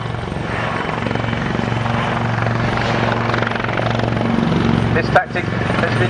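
A Wildcat military helicopter flies past at the Yeovilton air display, its loud, steady rotor thump and turbine roar filling the scene, with an announcer's voice over a public address under it and a brief bump near the end.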